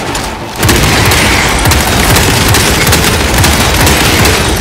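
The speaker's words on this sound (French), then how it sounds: "Lance une grenade frag." A frag grenade goes off in Warhammer 40K Space Marine 2: after a brief quieter moment comes a sudden loud blast, followed by a sustained dense rumble with crackling, gunfire-like bursts.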